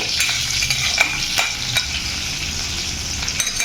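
Cumin, mustard seeds and green chillies stirred in hot oil for kanda poha, a steady bright sizzle with scattered spatula scrapes and small crackles close up, no voices.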